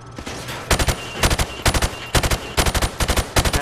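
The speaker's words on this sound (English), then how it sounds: "Now, shoot at the targets while firing from the hip." Rifle fired from the hip in Call of Duty: Modern Warfare Remastered, loud rapid bursts of automatic fire in quick groups separated by short pauses, with no talk.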